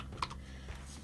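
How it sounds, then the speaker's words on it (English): A date typed on a computer keyboard in a quiet room, a short run of soft, close key taps with one slightly sharper click near the start, no voices. "if I type in today's date"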